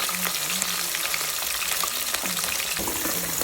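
Onions fry in hot oil for biryani, giving a dense, steady sizzle and crackle up close with occasional stirring sounds, no speech over it.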